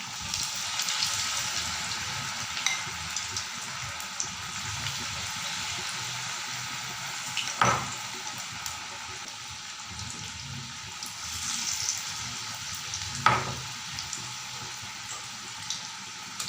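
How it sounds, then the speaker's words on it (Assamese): Taro leaf pakora batter fries in hot oil in a kadai, a continuous bubbling hiss close by with occasional crackles and two brief sharper bursts, no voices over it. "তেলখিনি গৰম হোৱাৰ পিছত আপোনালোকে এটা এটাকৈ মিশ্ৰণখিনি তেলত দি দিব।"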